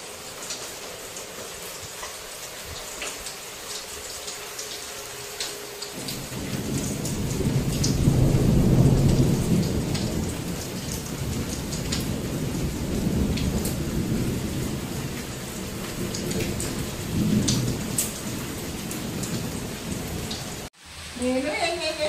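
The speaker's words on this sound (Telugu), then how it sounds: "మాకైతే ఫుల్ వర్షం పడుతుందా అండి" Heavy rain pours steadily among the potted plants of a plant nursery, and a deep roll of thunder swells and fades under the hiss. Briefly at the end a voice is heard.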